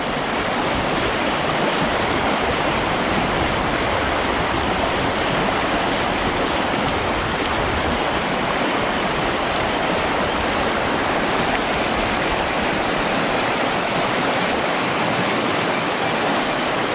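The fast-flowing Biała Lądecka mountain river rushes past, a loud and steady broadband roar of churning water that continues unbroken throughout, with no voices.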